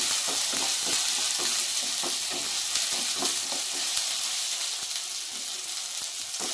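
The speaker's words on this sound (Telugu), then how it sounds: "ఇది కొంచెం పచ్చివాసన పోయేంత వరకు వేగించండి" Ginger garlic paste frying in a pan for a ridge gourd milk curry, with a loud continuous sizzle and repeated rhythmic spatula scrapes and taps as it is stirred, no speech.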